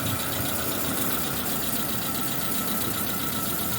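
A Suzuki Samurai engine with a rebuilt Aisan carburetor idles at about 900 rpm, a steady close mechanical hum with a fast, even throb and no voices.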